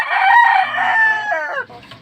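A loud, close fighting rooster crow, one long strained call that trails off into a brief rustle.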